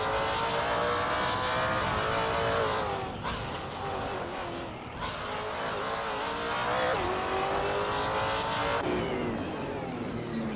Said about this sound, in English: is driving a 2013 Ford Mustang Boss 302 GT4